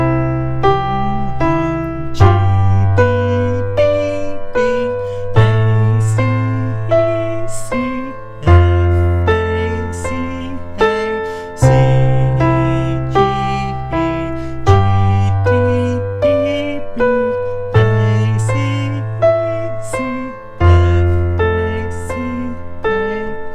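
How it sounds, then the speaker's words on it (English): Keyboard broken chords in an inversions practice exercise, the right-hand notes rolling upward over held low bass notes, with phrases repeating about every three seconds, close and clear with no voices. "So we're going to put those chords together, broken chords together"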